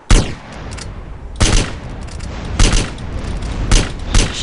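Gunfire in GTA San Andreas Multiplayer comes in loud, close bursts of repeated shots, with about four sharp volleys separated by brief lulls of echoing decay.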